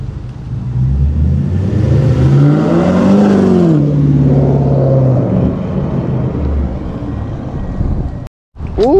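Corvette C7 with newly installed headers drives past, its engine revving up and sweeping in pitch before settling to a steady drone, ending in a sudden cutoff and a short whine.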